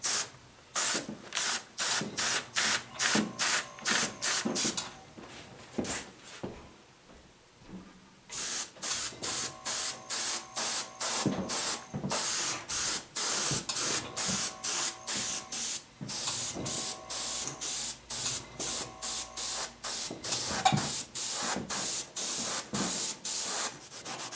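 An airbrush sprays paint in repeated short bursts of hiss in a steady rhythm, each a second or less, with a brief quieter pause partway through.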